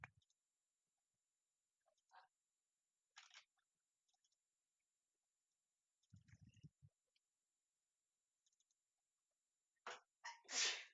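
A person sneezes indoors at home while working on a gaming server. A quiet stretch with faint clicks and shuffles is followed by a short burst of loud, close sneezes near the end.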